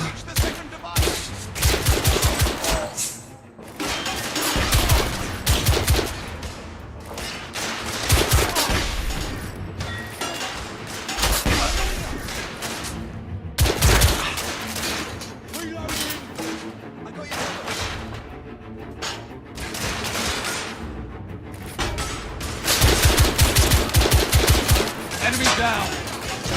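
Gunfire in the video game The Order: 1886, dense bursts of rapid automatic shots and heavy blasts in an almost continuous barrage, loud and close, with brief lulls between volleys.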